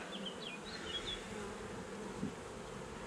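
Honeybees at an open hive during an inspection, a steady low buzzing drone throughout, quiet and even, with a few brief higher flicks of passing wings near the start.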